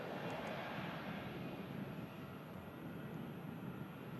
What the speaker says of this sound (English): Just arriving in Aer Lingus from Dublin next